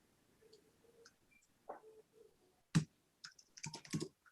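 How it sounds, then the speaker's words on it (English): Typing on a computer keyboard during a Linux fundamentals lesson: sparse, irregular keystrokes, quiet and close, with a short burst of quicker clicks toward the end. "I'm just typing anything funny."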